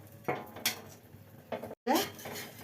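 Metal lid lifted off a pan while a Bombay rava dosa cooks, giving a few sharp clanks and scrapes of metal on metal close by, with quiet kitchen background between them.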